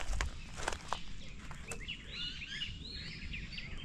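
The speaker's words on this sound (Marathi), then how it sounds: "त्याच्यामुळे आवाज बघा पक्ष्यांचा." Several birds chirp and warble among the mango trees at a Lonavala resort, their calls bright and overlapping in the middle distance. A few louder knocks and footstep-like sounds come close by at the start.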